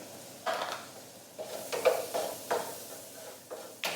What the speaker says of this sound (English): here's some red onion and white onion. Just go straight in.